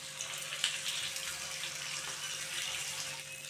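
Marinated fish frying in hot oil in a pan gives a steady, fairly faint sizzle with a fine crackle all the way through. A low constant hum sits underneath and no one speaks.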